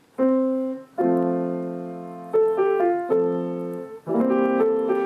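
Piano chords ring out one after another, each struck and left to sustain and decay, with a few quicker changes toward the end; no speech.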